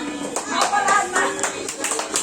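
A small group of adults and children clap hands at a kids' party game, applauding a prize winner. A short burst of uneven, close clapping runs with a few sharp taps mixed in.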